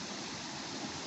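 The Uluzden river rushes past with a waterfall, a loud dense steady roar of falling and flowing water, close by and without voices.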